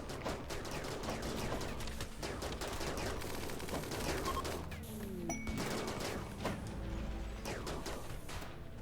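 Dense, continuous gunfire from a RimWorld raid battle, many overlapping shots rattling together with occasional metallic clangs and dings throughout.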